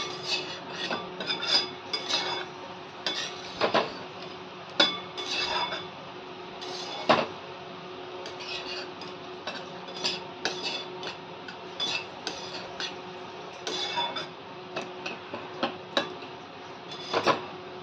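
Shredded coconut being sautéed and stirred in a pan, a spatula scraping and clinking against the metal in irregular taps and rubs over a faint background hum, close and fairly quiet, no voices.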